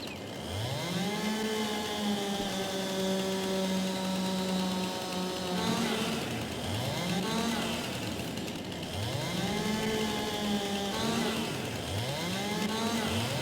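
Chainsaw cutting branches off a storm-damaged tree: a steady buzzing engine drone with repeated rising and falling revs as the chain bites into wood, close and loud throughout.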